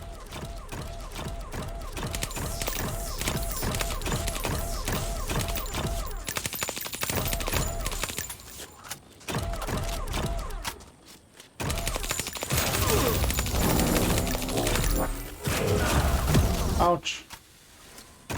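Rapid gunfire from the shooter 41 Hours hits a shielded enemy, sounding as dense continuous volleys mixed with game effects, while someone talks over much of it.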